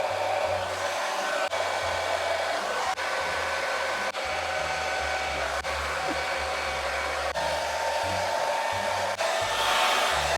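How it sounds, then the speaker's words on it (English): A hair dryer fitted with a diffuser blows steadily and loudly on curly hair, its constant whooshing roar broken by several brief dips as it is moved or switched. "I am gonna diffuse because that's like the best way to get volume"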